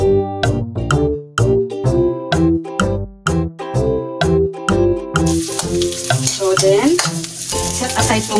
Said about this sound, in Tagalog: igisa natin ang ating bawang. Pagka medyo brown na siya, susunod po natin yung ating sibuyas.